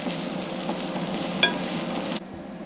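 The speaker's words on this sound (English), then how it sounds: "We're going to saute this until it gets translucent, and you can start to smell the onions and the peppers." Onions and jalapeno peppers sautéing in olive oil in an Instant Pot, a close, even sizzle with a faint stirring tap midway, cutting to quieter hiss near the end; no talking.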